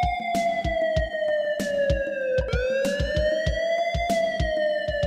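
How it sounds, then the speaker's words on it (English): Police car siren from the video game Police Quest 3, a loud synthesized wail sweeping slowly down and back up, running continuously over a rhythmic thumping game music track. "siren kind of fits in with the music"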